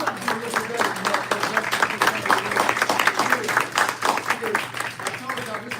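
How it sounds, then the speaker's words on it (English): Students at Texas Southern University applaud themselves, a loud, dense crowd of clapping mixed with cheering voices and shouts running continuously throughout. "Give yourself a round of applause."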